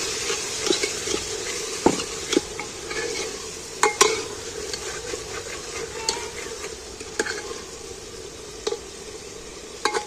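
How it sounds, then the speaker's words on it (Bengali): Spice paste of chili and turmeric is stir-fried in oil with a low sizzle, while a spoon scrapes and knocks against the pot in irregular strokes. No voices are heard. "মশলাটা কষানো হয়ে গেল, তেল ছেড়ে দিয়েছে।"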